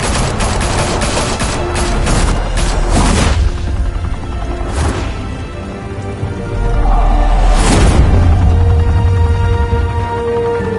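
Heavy gunfire erupts in Batman: The Telltale Series, a loud, sustained fusillade of rapid shots and booming impacts that rises, briefly eases, then swells again, close and dominating with no voices over it.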